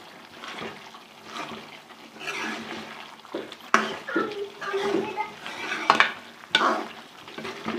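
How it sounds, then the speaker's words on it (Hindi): Spices are dry-roasted in a pan for goat lung curry, with irregular stirring, scraping and light sizzling from near the pan that grow louder and sharper toward the end. "अब हम इसकी भुनाई करेंगे।"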